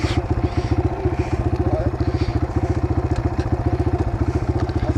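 A Kawasaki KLX 140 dirt bike engine putters close by in a fast, regular low throb, a steady idle-like pulse throughout with faint background clatter.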